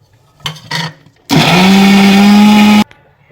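A kitchen mixer grinder blends garlic, mint, coriander and ginger into a paste, loud and close, with two brief pulses followed by one sustained whirring run of about one and a half seconds that stops sharply.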